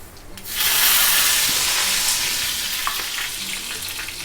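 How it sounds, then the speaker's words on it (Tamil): Mustard seeds and urad dal tempering in hot oil for a festival dish, a loud steady sizzle that bursts up after a quiet start and holds, with faint crackles and pops, no talking. "எண்ணெய் காஞ்செடுத்து கடுகு உளுத்தம் பருப்பு தாளிச்சிடலாம்."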